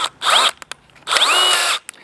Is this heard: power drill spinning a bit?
yes